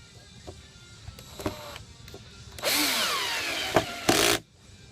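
A power drill with its clutch set back drives a screw into an electrical box, giving short whirring bursts followed by a longer, louder run near the end.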